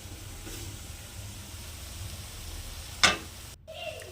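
Onion and spices sizzle in a pan for a farm-egg chicken-style curry, a steady low frying hiss with a sharp clink of a utensil partway through and a brief cut near the end.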